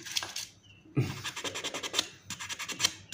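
A worn front sprocket shaft being hand-finished after grinding, with rapid rough scratching strokes in a steady back-and-forth rhythm broken by a short pause, close and fairly quiet.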